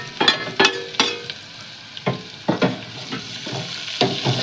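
Green chillies and tomatoes hit hot oil in a pan for potato poha, giving a steady fry with a run of sharp scraping stir strokes, some loud and close, spaced irregularly over the sizzle.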